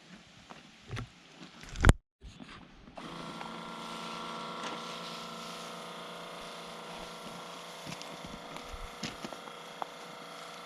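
A Bauer 1-gallon cordless sprayer from Harbor Freight sprays a tight stream along a driveway edge. A steady electric pump whine with hissing spray kicks in after a few seconds of clicks and handling, then holds close and even to the end.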